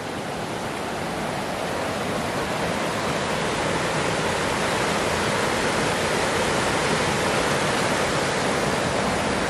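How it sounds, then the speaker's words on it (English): Fast-flowing clear mountain creek on Engineer Pass, a loud, steady broadband rush of churning water, close by and unbroken, with no voices. "here's the creek that runs through. Pretty high speed creek"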